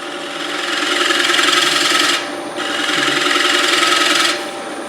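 A turning tool shear-scraping the foot of a wooden bowl on a lathe gives a steady, close rasping scrape in two long passes with a brief pause between, heard alone.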